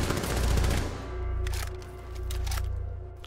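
Rapid bursts of automatic gunfire from a Rainbow Six Siege match, loud and close, with dense fusillade-like shots filling the first second and scattered sharper reports continuing after, no talk over it.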